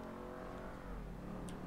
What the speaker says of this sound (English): A nice V8 sound.